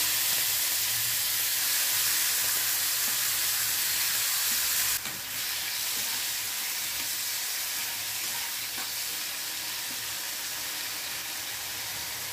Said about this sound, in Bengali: তেল গরম হয়ে গেছে, চিংড়ি মাছটা দিয়ে দিই